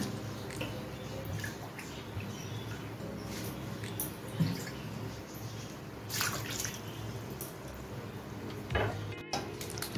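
One and a half cups of water go into a kadai already holding powdered milk for sheer khurma, making a soft, steady pouring wash with a few brief clinks of the vessel and no speech.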